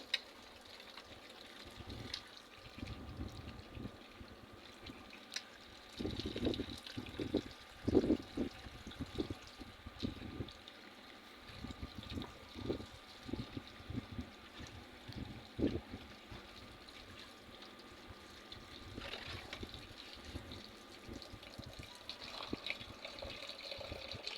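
Quiet sloshing and trickling water as rice is washed by hand for khichuri, beside a clay stove in a rural kitchen, with intermittent swishes and gentle splashes against a soft background hiss.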